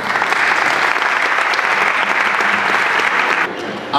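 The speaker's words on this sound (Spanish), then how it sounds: "Aplausos." Audience applause at a fantasy film festival award ceremony in Estepona, Spain, steady and dense clapping throughout, easing slightly near the end.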